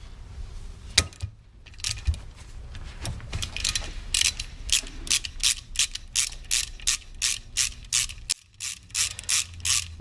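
A hand ratchet loosens the power steering pump bolts on a Land Rover Discovery Series II, first in scattered clicks, then in a fast, regular run of close, crisp clicking bursts with brief pauses between strokes.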